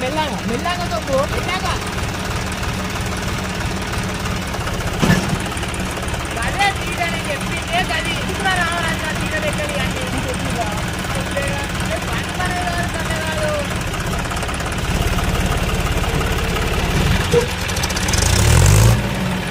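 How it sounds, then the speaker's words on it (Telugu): A farm vehicle engine with no self-starter, likely a tractor, catches after being started by hand and settles into a steady, knocking idle close by, with someone talking over it throughout. "కొంచెం డైరెక్ట్ గేర్ లా స్టార్ట్ అవుతుంది అనమాట. మన బండికి సెల్ఫ్ లేదు కాబట్టి ఇట్లా అవుతుంది."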